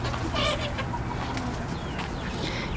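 Young roosters about ten weeks old clucking in a farm flock, a dense mix of overlapping clucks and chirps over steady background noise, fairly close and continuous.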